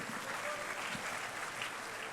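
An indoor audience at a college induction programme claps for a faculty member, a steady, fairly soft wash of applause that holds evenly throughout.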